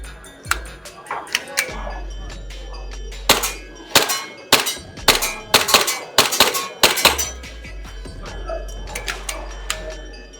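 Shots from a VFC Glock 17 Gen 5 MOS airsoft gas blowback pistol, sharp cracking pops with metallic slide clacks fired in irregular bursts and singles, close and loud, with a low background hum between shots.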